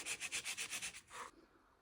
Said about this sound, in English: I'm just continuing that process, just gently sanding to take off that napkin.